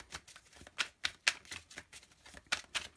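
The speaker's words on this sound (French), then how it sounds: "Je vais tirer une carte quand même avec pour voir un peu" Tarot cards are shuffled and drawn from a deck, giving a quick run of soft, crisp flicks and snaps in an uneven rhythm, close and quiet with no talking.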